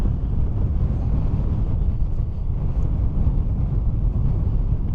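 Steady wind rushing and buffeting against the microphone, a constant low roar with no pauses, loud and close throughout.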